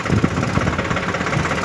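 A Swaraj 744 tractor hauling a heavy load of sand runs with a steady, throbbing engine chug, close and loud, its low pulsing beats repeating evenly through the brief moment.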